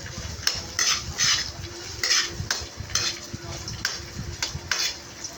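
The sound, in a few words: stirring garlic into pot while cooking frog adobo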